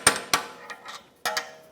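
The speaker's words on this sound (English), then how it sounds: "Just going to use that pry bar and hammer, just tap it in all the way around." A hammer and pry bar tap a ball joint into place on a 2004-2010 BMW X3, making a few light, sharp metallic taps spaced unevenly over a quiet workshop background.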